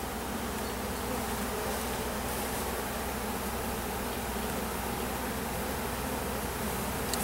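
Honey bees in a full hive during a spring split make a dense, continuous buzzing drone, close and steady throughout, with no voices.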